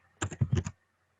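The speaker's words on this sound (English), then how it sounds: "Here, I'm going to type in nurses in Philadelphia." A quick burst of about five computer keyboard keystrokes, close and crisp, typed rapidly in a quiet room while entering a search into an online library catalog.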